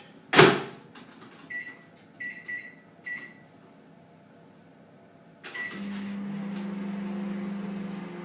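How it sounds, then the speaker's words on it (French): Microwave oven melting 50 g of butter: a loud door clunk, a few short beeps, then a steady low hum of the oven running alone. "je vais mettre 50 g de beurre à faire fondre au four micro-ondes"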